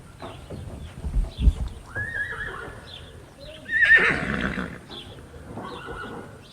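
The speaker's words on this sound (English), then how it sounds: "I want to get up here and try to lead horses up." Horses neighing and whinnying outdoors, with a loud drawn-out whinny near the middle and shorter calls around it, mixed with faint hoof clip-clop and some background noise.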